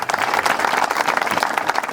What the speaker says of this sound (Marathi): तुम्हाला टाळ्या वाजवाव्या लागतील